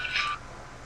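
A telephone tone sounds once, a bright electronic beep lasting about a third of a second, then quiet background hiss.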